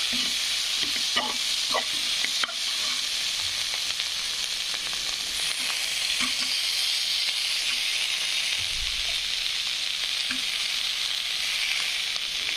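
Potato bhaji sizzles and fries in a pan while a spoon stirs it, a constant loud hiss with scattered scraping clicks throughout.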